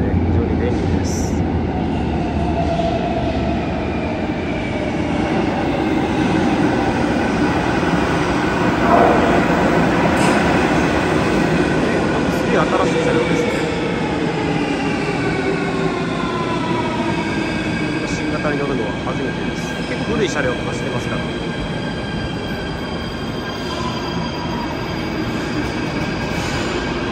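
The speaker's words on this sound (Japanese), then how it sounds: "地下鉄大体4分間隔で運行されてますね。" A new Cairo subway train rumbling along inside the car, with a steady low roar, rising and falling whines from the motors, and faint voices underneath.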